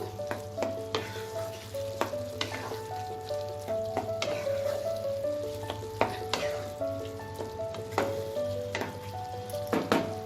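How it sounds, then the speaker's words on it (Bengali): A ground paste of green chili and cumin is stirred into ash gourd frying in a pan for Bengali vegetarian chapor ghonto, giving a continuous sizzle with scraping stirs over soft melodic background music. "এই মশলার পেস্টটা আমি দিয়ে দেবো। দিয়ে এটাকে ভালো করে মিশিয়ে নেব।"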